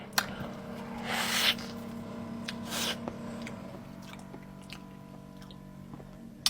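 Speculoos gingerbread pastry filled with citrus confit being chewed up close: two bursts of soft crunchy biting and mastication, then quieter wet chewing with a faint background hum.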